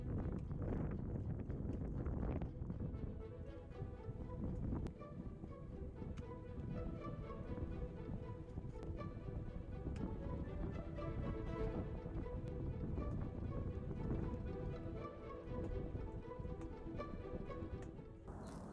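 Steady wind roars across a high alpine ice climbing route, carrying spindrift in a constant loud rush with gusty swells and no voices.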